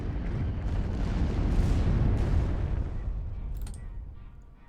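Precision bombing strike in the WWII card game KARDS, a broad rumbling explosion that swells and roars for several seconds before slowly fading, loud and close with no talk over it.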